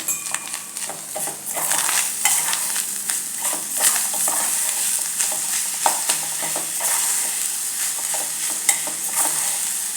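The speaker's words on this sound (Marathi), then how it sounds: "आता याच्यात घालायचं आहे ओलं खोबरं आणि आपण जो किसून गूळ घेतला होता तो आणि हे सगळं आता मिक्स करायचं" Grated fresh coconut and jaggery stirred together in a pan for modak filling, a soft continuous sizzle with repeated scraping and clinks of a spoon against the pan, close up and without talking.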